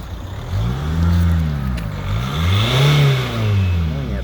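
A 2003 Audi A4 engine revs up and down several times in close succession, loud and near, with rising and falling pitch.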